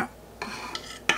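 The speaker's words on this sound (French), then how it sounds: "Pour mélanger délicatement un petit peu les deux pâtes" A utensil gently folds vanilla and cocoa marble cake batters together in a bowl, giving a few soft, brief scraping and stirring strokes close up.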